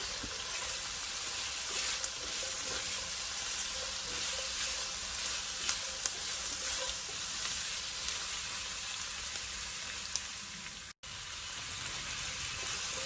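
Celery and green beans frying in a pan for veggie fried rice, a steady, moderately loud sizzle that runs unbroken with small crackles and pops and one brief dropout near the end.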